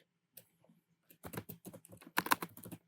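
Typing on a computer keyboard, with a few isolated taps followed by quick bursts of close, crisp keystrokes in an otherwise quiet room.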